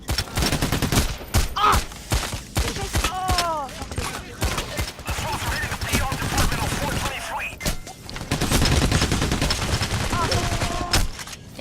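Gunfire in the Payday video game: dense, rapid bursts and a steady rattle of shots run throughout, with overlapping game sounds and people talking over the action.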